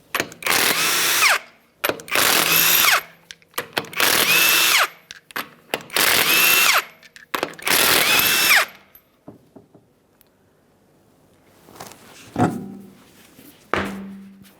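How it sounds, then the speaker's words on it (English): A power tool loosens the five 22mm lug nuts on the rear wheel of a 2007-2013 Acura MDX: five loud, close, evenly spaced whirring bursts, followed by quieter clanks and handling knocks. "we're going to remove the wheel by removing all 5 of our 22mm lug nuts"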